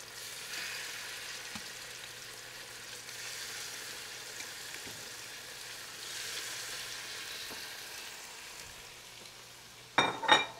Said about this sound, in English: So you hear that? That's the sound of hot oil.